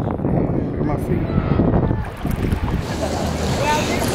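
Strong wind buffets a tropical Caribbean beach, roaring steadily and close with heavy low rumble against the microphone, blended with breaking surf, while a person talks over it.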